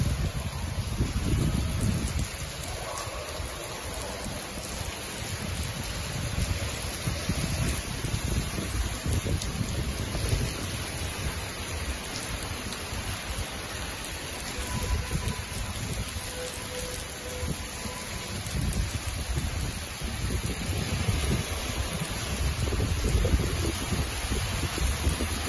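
Steady rainfall in Al Ain, UAE, a dense continuous hiss of drops with some low wind rumble, evenly loud and unbroken throughout.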